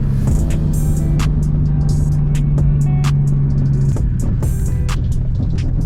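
White Porsche Carrera driving past, a steady loud engine drone with a sustained tone that drops off near the end, over constant road noise and sharp clicks.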